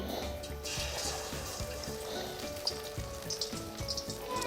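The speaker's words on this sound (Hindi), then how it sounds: "घी गर्म होने पर अब हम पकौड़ों को हाथ या चम्मच की मदद से, जैसे आप पसंद करें, कढ़ाई में डालते जाते हैं।" Potato and spinach pakoras frying in hot ghee in a kadai, a continuous bubbling sizzle with small pops and splutters, moderately close and steady, no talking.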